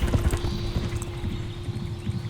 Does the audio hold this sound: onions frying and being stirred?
no